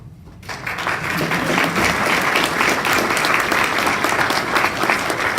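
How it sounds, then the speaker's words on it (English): Loud, dense applause from an audience at an award event honoring a recipient, starting abruptly after a brief quiet moment and holding steady as a full room claps together. "she certainly deserves some applause"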